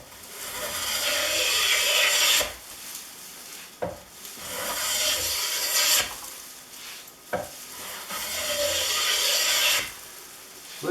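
Long rasping strokes of a No. 2 hand plane shave wood in a steady rhythm, each pass a bright scraping swish, separated by short knocks and pauses.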